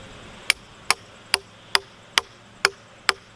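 A spiked log vise hammered into an oak log outdoors: seven sharp, evenly spaced metallic strikes, close and loud, each with a short ringing decay.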